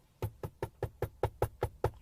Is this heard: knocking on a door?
yes